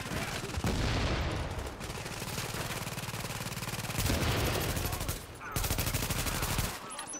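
Grenade blasts and sustained gunfire in The Division's Queens Tunnel camp battle, dense and loud bursts of shooting with heavy booms nearly throughout, a brief lull near the end.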